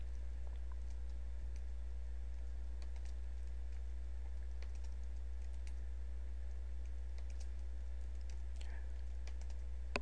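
An old computer keyboard, about six years of use, typed on in a soft, steady stream of light clicks and taps during a Dwarf Fortress session. The keys sit faint under a constant low hum, with no talk.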